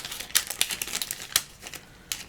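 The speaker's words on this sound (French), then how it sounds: "mettez du scotch." Adhesive tape is pulled off a roll and pressed into place to catch loose pigment during eye makeup, heard as quick, irregular crackly ticks and rips at close range.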